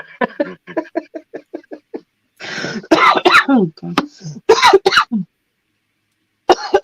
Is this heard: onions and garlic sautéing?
no